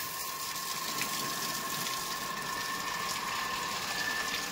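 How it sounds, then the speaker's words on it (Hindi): Water forced under pressure from a motor-driven hand pump, gushing in a constant, loud, close stream with a faint steady whine from the motor running through it. "देख सकते हैं कितना प्रेशर दे रहा है मोटर।"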